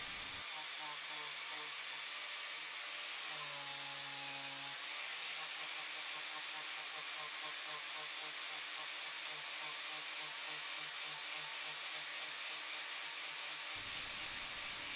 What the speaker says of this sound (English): I do the bulk of the carving with my angle grinder that has a medium wood carving disc attached